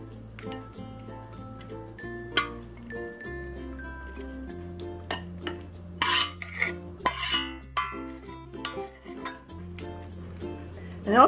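Utensils and dishes clink as braised Sichuan-style shrimp with crispy pork is plated, a series of sharp, scattered taps and knocks, some close and bright, spread across the moment over a low steady hum.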